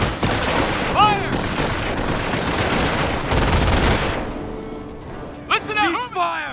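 Gunfire and explosions from the World War II strategy game Company of Heroes, a dense continuous barrage of shots and blasts with soldiers shouting over the battle throughout.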